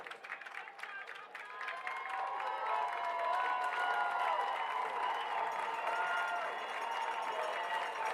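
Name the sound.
crowd cheering at high school football game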